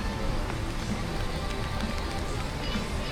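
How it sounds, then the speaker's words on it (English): A rain feature at Blizzard Beach water park in Disney World sprays water in a dense, steady hiss that fills the whole stretch, with faint voices underneath. "Rain mode activated."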